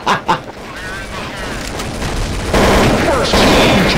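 Gunfire in Counter-Strike: Source, two sharp shots at the start followed by a dense, continuing rattle of game shooting that grows louder toward the end, with voices talking over it.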